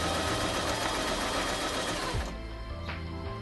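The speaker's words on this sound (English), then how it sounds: "By pressing your presser foot, you can then start sewing. The harder you press your foot, the faster the machine will go." A Kreshay sewing machine runs at speed while sewing, giving a fast, even mechanical whir with rapid needle ticking up close. It then drops to a slower, quieter hum as the presser foot eases off.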